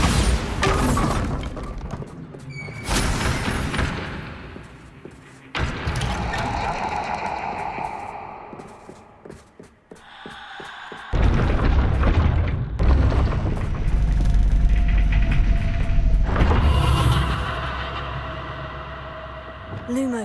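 Bombarda spell blasts in Hogwarts Legacy, with loud booming explosions and shattering crashes spread across a busy stretch of game combat, the rumbling impacts coming in several bursts.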